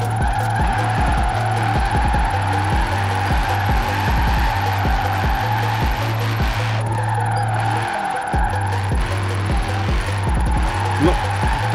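A Porsche 928 GT drifting in the video game Forza Horizon 4: a steady engine drone with rhythmic revving and sustained tire squeal, loud and close, under a voice.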